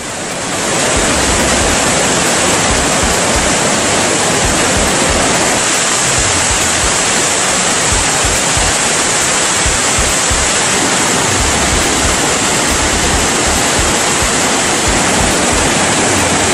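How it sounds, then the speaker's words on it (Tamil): Floodwater roars down the Kumbakkarai waterfall, a loud, unbroken rushing wash heard close and alone throughout. "கும்பக்கரை அருவியில் இன்று வெள்ளப்பெருக்கு ஏற்பட்டுள்ளது"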